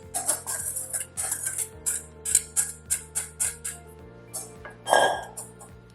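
Dressing is spooned onto a cucumber salad in a bowl, a quick run of light metallic clinks and taps of spoon on the bowl, close and fairly quiet, with a faint steady hum underneath.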